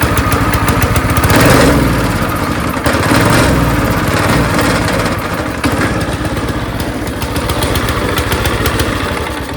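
A small go-kart engine runs close and loud, rough and uneven, its putter surging and sagging throughout with no talk.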